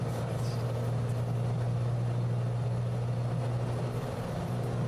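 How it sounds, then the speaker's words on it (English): A cold aircraft engine in a flight simulator game, most likely a Cessna light plane, drones as a steady low hum with a strong constant tone, loud and unbroken throughout, with no talk. "it sounds like the engine is cold"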